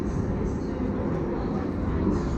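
A train passing in London, a steady broad rumble that holds at even loudness for the whole stretch, close and continuous with no clear breaks.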